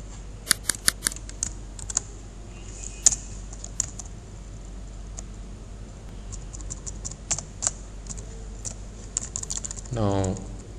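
Code is typed on a computer keyboard in quick irregular clicks, steady and close throughout, with a brief rising tone near the end.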